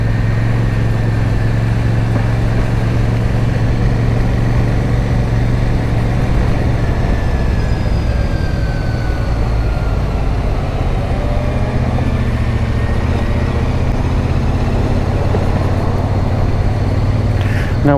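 Royal Enfield Super Meteor 650 motorcycle being ridden: a steady, loud engine drone with low rumble and rising pitch sweeps as it accelerates, with wind noise throughout.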